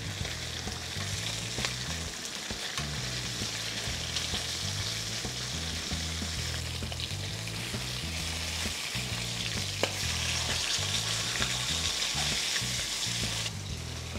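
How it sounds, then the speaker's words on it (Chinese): Salmon fillets pan-fry in hot oil with a loud, steady sizzle that runs without a break, close up, while a spatula scrapes and stirs at times and no one speaks. "咁咧就可以反轉去慢慢煎。"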